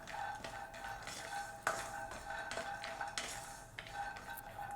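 Ingredients being dry-roasted and stirred in a pan while a spoon scrapes steadily, with intermittent metallic clinks against the pan and a faint sizzle underneath, all close and at a moderate level with no talking.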